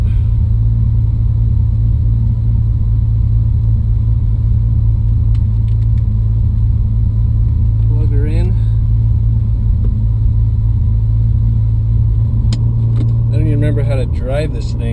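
A turbocharged Lexus IS300 cruising, its constant low engine rumble and road noise steady throughout, with a brief rising whine near the middle and end, as someone speaks intermittently.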